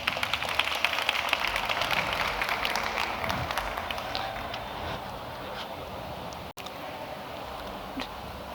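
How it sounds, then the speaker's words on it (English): A distant audience at an AI innovator award pitch competition gives a faint, steady round of applause, a dense patter of many hands that thins out over several seconds. "Let's give them a big round of applause."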